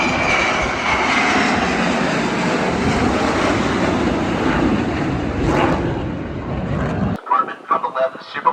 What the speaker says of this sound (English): Super Hornet, supersonic pass